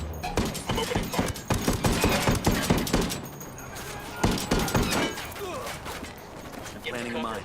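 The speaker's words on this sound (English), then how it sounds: "I'm opening fire." Rapid automatic gunfire from the tactical shooter game Ghost Recon, dense bursts of shots crackling loudly and continuously, with sparse sharp impacts breaking through the barrage.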